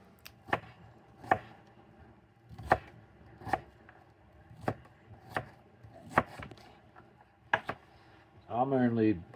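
Half a medium onion gets diced for venison stew, a knife striking the board in about a dozen sharp, evenly spaced chops, close by, with a voice starting to talk at the very end.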